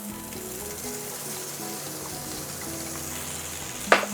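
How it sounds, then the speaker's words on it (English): Garlic, ginger and spring onion whites sautéing in a pan, a continuous close sizzle with stirring scrapes and a sharp clatter near the end. "you will want to saute the garlic, ginger, and the white portion of the spring onion"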